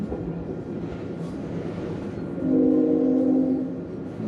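The Spirit of Queensland tilt train arrives at night down the middle of a Rockhampton city street, a low rolling rumble followed by a loud, sustained horn blast of about a second.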